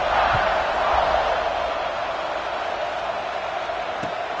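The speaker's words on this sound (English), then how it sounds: "this crowd is buzzing after that last score" Stadium crowd at a South Carolina vs Alabama college football game, buzzing after a score: a dense, steady roar of many voices that fills the whole clip at an even, loud level.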